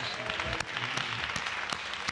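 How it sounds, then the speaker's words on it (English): A church congregation claps as a praise offering, a burst of loud, dense applause with several sharper individual claps standing out, no speech. "Give the Lord a clap offering of praise."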